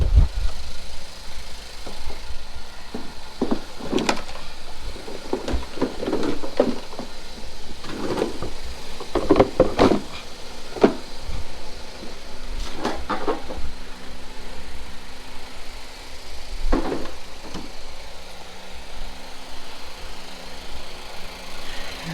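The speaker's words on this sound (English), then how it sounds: "Now listen to your engine for any unusual noise" A 2012 Ford Focus engine idling steadily at close range during an oil change, a low continuous hum with occasional clicks and knocks over it, no talking.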